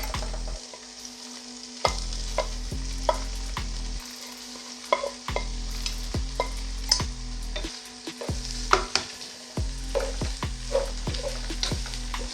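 A chicken, potato and carrot mixture is stirred in a sizzling pan, with repeated scraping and clacking of the spoon against the metal over a constant frying hiss and a low steady hum, close up and without talking.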